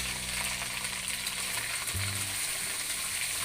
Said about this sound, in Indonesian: Goreng kelapa parut tadi dengan minyak yang sama.